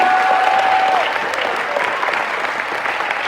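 A live audience applauds a band at a multi-band event, broadband clapping steady and dense throughout, with a faint tone fading out early on.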